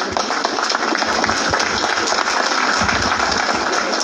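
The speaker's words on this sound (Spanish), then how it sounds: "recibir con un fuerte aplauso." Applause from an assembled crowd of Indigenous authorities in Sololá greets the next speaker, a dense, steady clatter of many hands lasting the whole few seconds.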